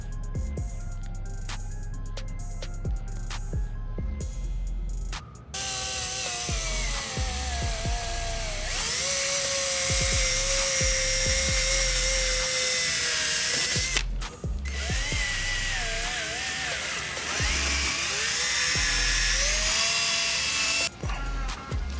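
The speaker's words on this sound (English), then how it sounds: "I'm just gonna attach this 500 grit sandpaper onto this tool just like this, and then I'm just gonna start sanding it." A power tool fitted with 500 grit sandpaper sands a car headlight, a loud continuous whirring drone that shifts in pitch as pressure changes, with short breaks and restarts and no talking.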